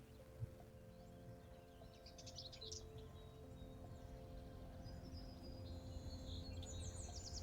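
Common chaffinches chirp in spring as faint, brief tweets over a low background hum, with a few scattered calls rising toward the end.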